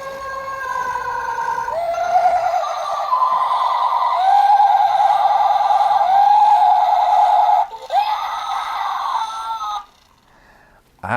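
A thrift-store Halloween animatronic decoration lets out a loud, high, warbling electronic shriek that wavers like a siren for several seconds. It breaks off briefly, resumes, and then cuts to near silence, with no talking.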